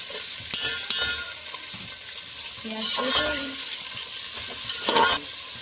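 Onions sizzle and crackle in hot oil with cloves while a spoon stirs and scrapes the pan with a few clanks, close up.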